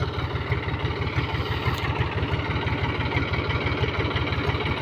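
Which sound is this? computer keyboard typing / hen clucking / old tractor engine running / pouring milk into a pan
old tractor engine running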